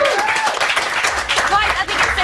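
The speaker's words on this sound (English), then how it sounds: "A massive round of applause for Wesley!" A television studio audience on a live talent results show claps and cheers loudly in a short burst, with a presenter's voice and music running over the applause.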